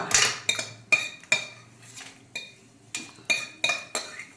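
Fried red chillies for a gongura chutney are scooped out of a pan with a metal spoon and dropped into a mixer jar, giving a string of sharp, close metallic scrapes and clinks in irregular rhythm, with no talk over them.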